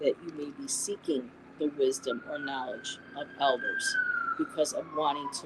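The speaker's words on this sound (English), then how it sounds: "sorry about the sirens, you guys." A police siren wails steadily in the distance outside at night, rising and falling slowly beneath a person talking continuously close by.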